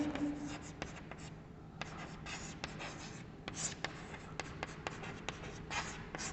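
Chalk or marker strokes on a board during an electrical generator lesson, a quiet run of quick scratchy taps and short scrapes in irregular rhythm, close by, with no speech over them.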